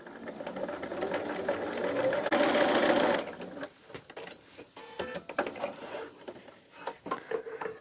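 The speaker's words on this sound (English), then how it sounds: "Once I get this sewed, I'll press again." Sewing machine stitching pinned quilt block pieces, a fast close mechanical whir in a burst that stops, followed by quieter handling clicks and rustle.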